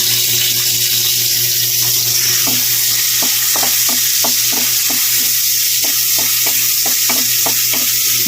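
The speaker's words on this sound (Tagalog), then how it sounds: "dito natin po tayo magigisa ng ating mga sangkap" Ginger and other ingredients sautéing in hot oil, a loud steady sizzle with a run of sharp rhythmic scraping stirs close by, no talk.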